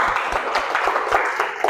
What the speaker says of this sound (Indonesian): Oke, tepuk tangan untuk Vanessa